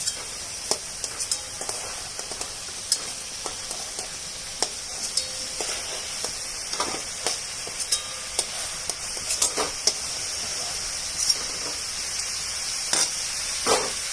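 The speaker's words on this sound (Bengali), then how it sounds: "মাংসটা ভাজা হয়ে গেছে, এবার তুলে নিচ্ছি।" Chicken pieces frying in hot oil for a yogurt chicken dish give off a steady sizzle, broken by sharp clicks and scrapes as the meat is lifted out of the pan, with no voices.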